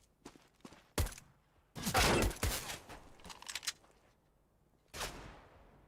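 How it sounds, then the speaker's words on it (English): USP pistol shots fired in Counter-Strike: Global Offensive, a handful of sharp separate cracks, then a dense burst of gunfire and a final loud shot, with quiet gaps between them. "Simple taking some pot shots towards top mid with that USP"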